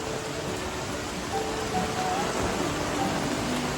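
Heavy monsoon downpour drums steadily and loudly on surfaces, a dense unbroken wash of rain close by with no pauses, lasting the whole stretch.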